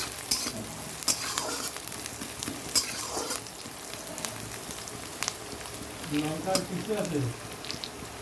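Garlic frying in a pan for a taro dish: a close, continuous sizzle broken by sharp clicks and spatula scrapes, with some faint background sound near the end.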